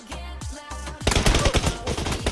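Gunfire in PUBG Mobile, a few spaced shots followed by a rapid, loud burst of automatic fire, close and sharp, with no talk over it.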